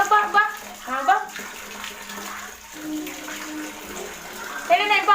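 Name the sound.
running water from a tap while washing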